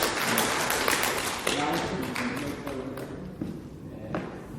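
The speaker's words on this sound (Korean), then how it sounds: "여러분 박수 한번 해주시기 바랍니다" Audience applause at a church award ceremony for Bible-reading participants, a steady wash of clapping from a room full of people, with a voice speaking over it and fading slightly toward the end.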